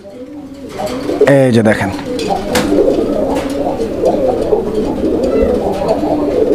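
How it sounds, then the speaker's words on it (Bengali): A Gola pigeon with a deep, thick voice gives repeated full coos close by in a breeding loft while someone talks over and between the calls. "ওর গলার সাউন্ডটা একদম মাশাআল্লাহ, মোটা গলার সাউন্ড, আর পিওর একদম বাকবাকুন ডাকটা দেয় ভাই"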